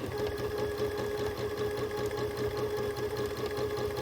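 A home sewing machine doing free-motion quilting runs steadily and close, its fast, even needle chatter and motor hum continuing without a break and with no talking over it.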